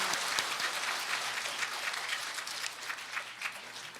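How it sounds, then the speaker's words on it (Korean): A church congregation gives warm welcoming applause to a priest, a sustained wash of many hands clapping that fills the room, fairly distant and steady, easing slightly toward the end. "뜨거운 환영의 박수 부탁드립니다"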